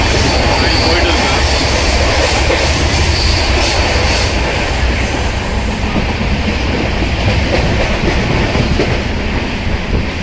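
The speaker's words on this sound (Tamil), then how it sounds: "ட்ரெயின் போயிட்டு இருக்கு." A passenger train runs along the tracks on a trip from Alleppey back to Bangalore, giving a loud, continuous rumble with rail noise and clatter heard from inside the carriage, with no voices.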